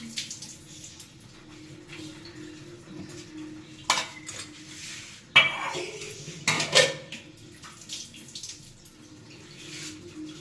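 Glass bottles are washed at a sink, with sharp clinks and clatters at scattered moments over a soft background of running water and handling.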